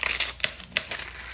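A pizza cutter rolls through crunchy sheet-pan chicken quesadillas with tortillas, making a short burst of close crackling and crinkling, with a few sharper crunches as the blade crosses the crisp top layers.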